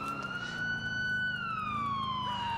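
A police car siren from the GTA IV LCPDFR video game wails loud and close, one steady tone that rises, holds, then slowly falls, with no talking over it.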